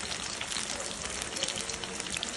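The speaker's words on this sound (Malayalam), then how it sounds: "നല്ല മഴയാണ് മക്കളെ." Heavy rain falls outdoors during village home cooking, a dense, even hiss of drops with no talk, faint and constant throughout.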